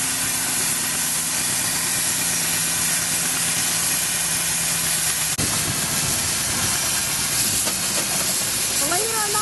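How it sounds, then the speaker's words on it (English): An old-time, very big steam engine of the kind used to power threshing machines, at an old threshers show in Shelbina, Missouri, gives a loud, continuous hiss and rumble, with a sharp clunk midway and whistling tones near the end. "this is an old-time, very big steam engine."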